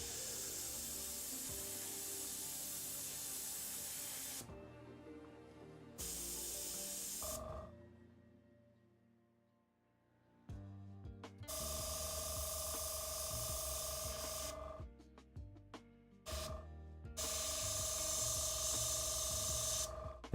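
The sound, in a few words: airbrush spraying paint on Warhammer miniature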